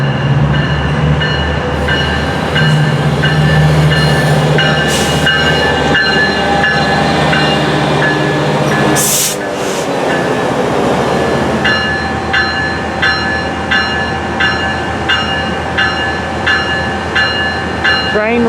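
A passenger train led by locomotive 909 rumbles loudly past in Camarillo, wheels clattering over the rails, with a sharp horn burst midway before the rolling noise continues.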